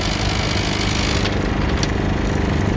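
A Champion 2000W inverter generator runs steadily nearby, a continuous loud droning hum with faint rattling mixed in and no talking.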